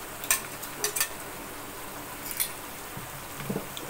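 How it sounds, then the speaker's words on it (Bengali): Ground spice paste fries gently in a pan for hilsa pulao, giving a faint, steady sizzle broken by occasional sharp clinks of a utensil against the pot. "আমি সব একে একে করে দিয়ে দিচ্ছি মশলা, আর মশলা কষাতে থাকবো"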